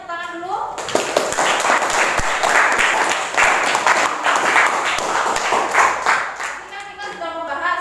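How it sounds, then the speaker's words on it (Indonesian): Lively classroom applause after a student presentation in a lesson, a dense burst of many hands clapping for several seconds, with a voice speaking briefly just before and as it fades. "Tepuk tangan dulu."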